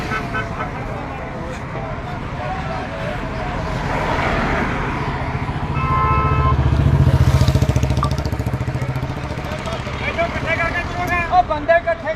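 Motorcycle engines swell and roar past nearby amid general road traffic and a short horn toot, while people talk in the background, at a farmers' protest march stopped by police.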